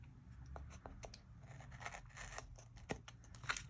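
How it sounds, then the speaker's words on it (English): Titanium non-stick scissors cut through a sheet of paper at a planner desk, making a quick run of crisp, close snipping and slicing strokes that stay fairly quiet. "I love the sound of the scissors going through the paper"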